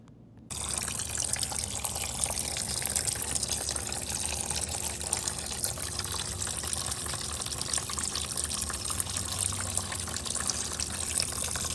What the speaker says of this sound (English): So what I did, I opened this, so it's gonna drain that out.